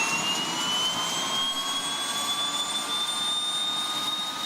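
Steady jet engine roar of a small private plane used to fly eye doctors to remote patients, a constant loud whine with a high tone sliding slowly upward throughout, no voices.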